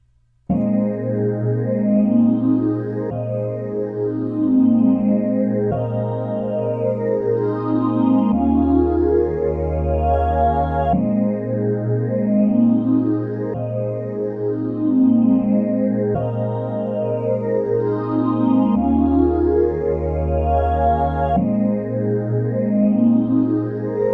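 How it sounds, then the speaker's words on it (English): A lush, heavily processed synth pad plays continuously, its filters sweeping open and closed in slow repeating waves over a steady low drone. "what you're hearing there is kind of like a really nice process pad that has"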